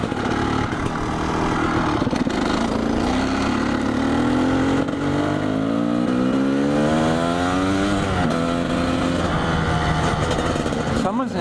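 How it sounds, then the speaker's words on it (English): Motorcycle engine revving while riding, loud throughout, pitch climbing and falling in repeated sweeps as the rider accelerates and shifts, with wind noise and a voice talking briefly. "Always a good time on the bike."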